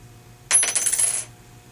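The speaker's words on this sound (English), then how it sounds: "silver also has more of a unique sound than other metal coins do." A silver coin drops onto a hard surface and rings out with a bright, high-pitched metallic shimmer lasting under a second, alone against quiet background hum.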